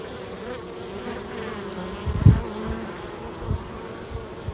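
Steady buzzing from many honeybees at a hive fills the clip, a dense continuous drone with a few louder low thumps near the middle.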